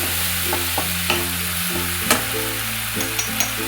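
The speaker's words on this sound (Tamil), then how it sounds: "இந்த தக்காளி பச்சை வாசம் போகிற வரைக்கும் கொஞ்சம் வதக்கிக்கணும்" Tomato sautéed in a pan for an egg chukka gravy, a steady close sizzle with a few light clinks of a stirring spoon, no talk.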